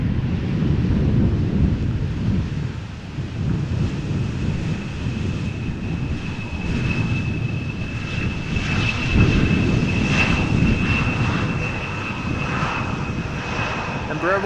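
An Airbus A320neo-family airliner arriving at Amsterdam Schiphol on a windy day, its engines roaring steadily at close range with a sustained whine, while wind buffets the microphone and no one speaks.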